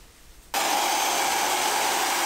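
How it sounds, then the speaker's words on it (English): A Dyson hair dryer kicks on after a brief quiet moment and blows a loud, steady, breathy roar that holds unchanged while hair is being styled. "the hair dryer is definitely going to be a lot longer to style my hair than any of the other tools"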